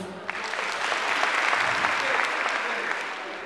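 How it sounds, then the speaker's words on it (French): A crowd at a Senegalese youth movement rally claps warmly and continuously, swelling after a brief start with a few voices mixed in, loud and close. "Merci de l'applaudir."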